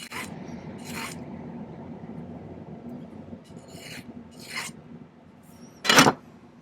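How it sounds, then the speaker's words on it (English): Hand file rasping across a silver cuff bracelet in steady back-and-forth strokes, close and moderately loud, with a sharper, brighter scrape near the end. "now we need to do a little bit of filing"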